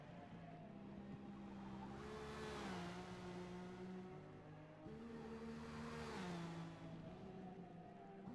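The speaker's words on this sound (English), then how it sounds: "sounds like he's clearing out the gears" In the Forza racing game, a single car engine revs hard through the gears, pitch climbing and dropping twice as it shifts, a sustained close-up whine with a brief break between the two pulls.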